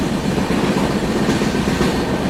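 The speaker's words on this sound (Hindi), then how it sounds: "DFC में चल रही मालगाड़ी के साथ पैरेलल रेस।" Freight train running alongside on a dedicated freight corridor in Uttar Pradesh, heard from a passing passenger train: a steady, loud rumble with continuous wheel clatter throughout, no voices.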